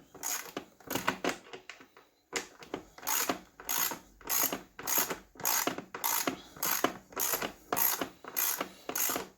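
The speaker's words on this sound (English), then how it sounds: "we're going to take those Torx screws out and loosen this up" Ratchet wrench working Torx screws loose, a steady series of close, crisp clicking bursts in an even rhythm with a brief pause early on.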